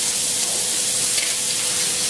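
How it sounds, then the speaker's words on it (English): Mushrooms hitting a hot pan give a steady, bright sizzle and hiss that fills the whole moment, loud and close with no talking. "if you just pop the mushrooms in these"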